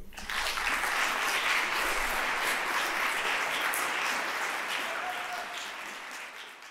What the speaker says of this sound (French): Mesdames et messieurs, sous vos applaudissements, Monsieur David Diallo.